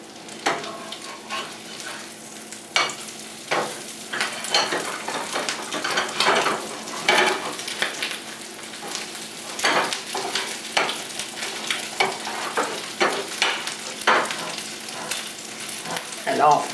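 Crab cake patties fry in a hot pan, a continuous crackling sizzle with bursts of spattering and occasional scrape of a utensil against the pan, no voices over it.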